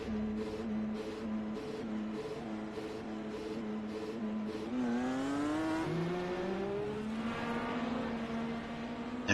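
A race car circles the track with a droning, steady engine note. A second car then approaches and passes with a rising, shifting whine, loud and close, alone without talk.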